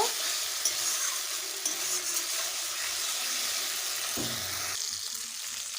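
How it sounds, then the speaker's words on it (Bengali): A spice paste of salt and turmeric fries and is stirred in a pan for a katla kalia, giving a continuous close hiss with a few soft scrapes and a brief clatter near the end, without talk. "পরিমাণ মতো হলুদ গুঁড়ো মশলাটাকে ভালোভাবে কষে নেব"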